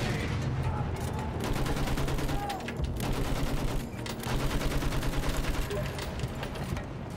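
Dense, sustained automatic gunfire from Battlefield 1 rattles in rapid bursts with brief gaps, loud and close, with occasional quiet speech underneath.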